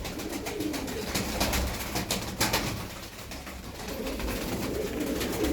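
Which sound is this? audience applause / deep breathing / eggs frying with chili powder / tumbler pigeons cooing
tumbler pigeons cooing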